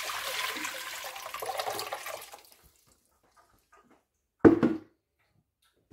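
Water pours steadily into a container, about 2.5 litres being measured out to make a salt brine for cheese, then stops; a short splash or clatter follows after a pause.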